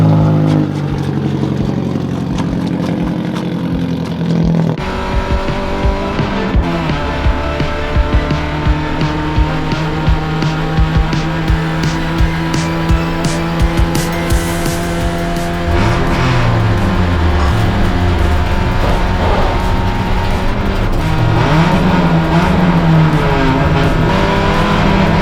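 Loud race car engines roar and rev continuously during a budget endurance race on the Thunderdome track, with changing pitch as cars accelerate and pass, plus occasional tire squeal.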